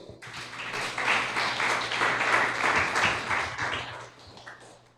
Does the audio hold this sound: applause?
yes